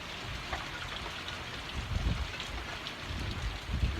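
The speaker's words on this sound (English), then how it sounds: "We got some rain." Rain pours down in a steady, dense hiss with low rumbling gusts beneath it, continuous and fairly close, with no one speaking.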